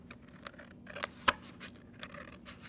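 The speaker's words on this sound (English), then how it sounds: "you can see I'm just cutting on these solid lines to start with." Scissors snip through paper while cutting out skimmer pieces, with a few soft clicks and scrapes and one sharp crisp cut, heard up close in a quiet room.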